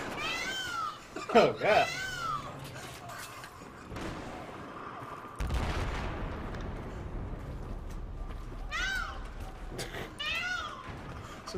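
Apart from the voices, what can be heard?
peacock call, sounding like a cat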